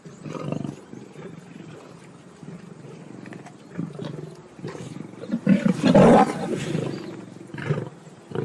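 Lions roar in the wild, a series of deep, rumbling calls building to a loud, close roar midway, with grunting and breathy moans between them.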